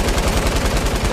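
Rapid bursts of light machine gun fire in a video game, roughly a dozen evenly spaced shots over about a second, loud and close with no talking.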